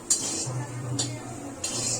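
Grated coconut fried in a pan is stirred with a metal utensil, giving three sharp scraping strokes against the pan at regular intervals over a low background hum.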